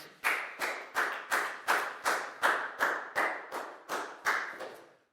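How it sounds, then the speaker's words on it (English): A classroom claps for a student in a Year 4 maths lesson, about a dozen sharp, evenly spaced claps in a steady rhythm, fairly close and fading at the end. "a big round of applause for Pangpon, please, guys"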